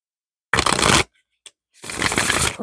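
Tarot cards are shuffled close up in two short, crisp riffling bursts separated by a brief pause and a faint tap.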